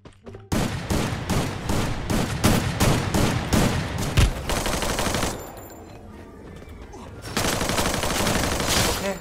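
Loud bursts of rapid automatic gunfire sound in the battle royale game Free Fire. Fast repeating shots come in dense volleys, then drop for a short lull before more firing, all close and without speech.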